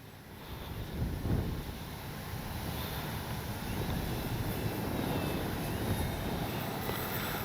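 A HobbyZone Carbon Cub S2 radio-controlled model airplane's steady buzzing engine drone holds throughout, mixed with rushing wind noise, with no talking.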